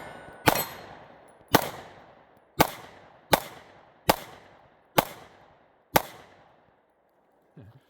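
Seven single shots from an FN Reflex MRD pistol ring out close and loud, evenly spaced about a second apart, each a sharp crack with a brief echoing tail, fired at a large target.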